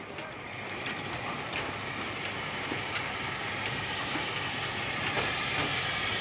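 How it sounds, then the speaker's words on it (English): A steam train passes at a distance with a broad hissing rumble that slowly swells, steady and fairly faint. "Steam train."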